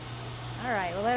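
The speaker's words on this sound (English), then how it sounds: "We'll turn this dryer back on." A steady low electric hum of a small nail polish dryer fan runs throughout, with someone talking over it toward the end.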